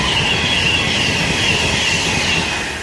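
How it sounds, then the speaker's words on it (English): A Pendolino train speeds through Nuneaton station on the West Coast Main Line, a loud, steady, close rushing roar of wheels and air with a high whine, fading slightly at the end. "now getting ready to pass by is a Pendolino."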